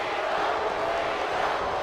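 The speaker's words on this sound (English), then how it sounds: "Once again, the crowd getting behind Cena, though. They will not give up, cheering for John Cena." A wrestling arena crowd in WWE 2K19 cheers for John Cena in a loud, steady roar of many voices that holds at an even level throughout.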